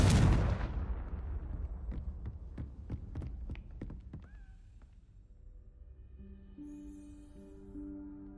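A blast from the Confringo fire spell in the game Hogwarts Legacy, a loud burst that fades into a low rumbling hum, then faint tonal chimes and quiet game ambience.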